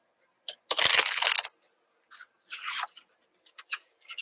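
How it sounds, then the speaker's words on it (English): Tarot cards being shuffled by hand, close and crisp: a long riffling burst followed by several shorter flicks and taps at irregular intervals, alone with no talk. "So I'm going to shuffle the cards here."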